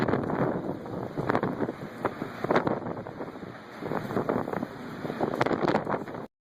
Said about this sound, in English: Look at that damn wind,